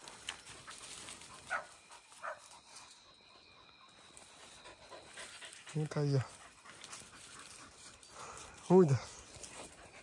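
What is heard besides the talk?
injured hunting dog whimpering and panting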